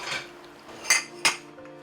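Cutlery and dishes clink after a home meal, with a few soft rattles followed by two sharp, bright metallic strikes close by.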